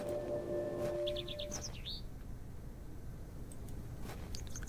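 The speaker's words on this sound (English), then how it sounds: "Hello, bird." Short chirps from a bird in the video game The Excavation of Hob's Barrow, a brief quick run of tweets over a low steady ambient drone, clear but not loud, with a faint tone or two later.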